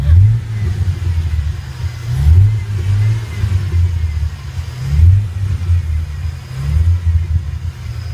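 A car engine revs repeatedly close by, its deep rumble swelling and dropping in several bursts over a steady idle.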